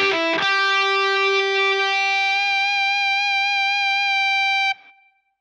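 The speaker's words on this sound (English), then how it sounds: "some synthesized feedback, you know what it does" Guitar through a Digitech Freqout pedal, a picked note swelling into steady synthesized feedback that sustains as a bright, pure tone for several seconds before stopping abruptly.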